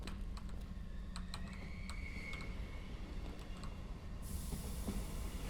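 An old train in the horror video game Tales of Fear gives off a steady low rumble and rolling rail noise, with faint rattles and clanks over it and a brief hiss rising near the end.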